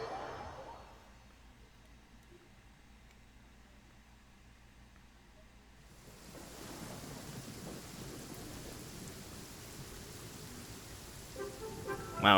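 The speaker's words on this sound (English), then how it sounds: "it happens to be raining" Rain and thunder in the video game Genshin Impact: quiet low rumbling at first, then steady hissing rainfall swells in and continues, with a louder burst at the end.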